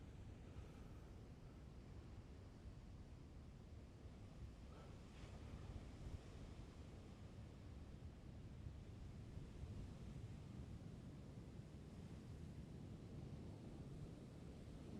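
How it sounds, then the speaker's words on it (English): Steady roar of large ocean surf crashing on shore in Ireland, with wind rushing across the microphone, a continuous low wash with gentle swells in intensity. "look at the size of these waves coming in."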